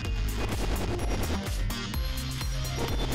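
Rapid gunfire blasts from the video game Deer Santa, loud dense bursts of repeated shots layered over pulsing game music throughout.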